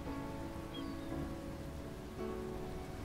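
Steady rain on a wet day at a Welsh seaside town, a continuous even hiss with no voices and no distinct drops.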